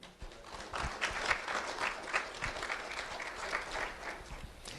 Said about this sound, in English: Round of applause for Desiree Breyer, everyone.